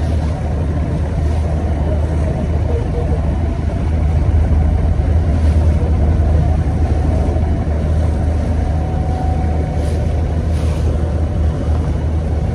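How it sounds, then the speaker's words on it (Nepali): A boat motor drones on a sea outing off Dubai, a loud continuous low rumble mixed with wind and water noise, steady throughout with no clear talk. "विदेशमा आएर समुद्रमा पनि बोटिङ गरिरहेन भने त के आउनु हो"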